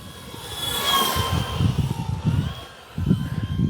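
An E-flite T-28 Trojan V2 radio-controlled model airplane with a 1.2 m wingspan flies overhead, its electric motor whining as a steady tone that swells and fades as it passes, with no talking.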